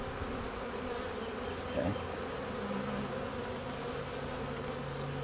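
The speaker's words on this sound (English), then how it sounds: "There's a lot of bees in here" Honeybees in a newly installed hive drone in a dense, continuous buzz, close and steady throughout, with one brief word spoken faintly over it.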